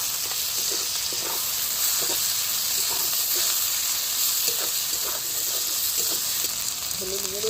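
Ground coriander and cumin paste sizzling in a little hot oil while a beetroot dish is cooked, a steady, close frying hiss with faint stirring scrapes throughout.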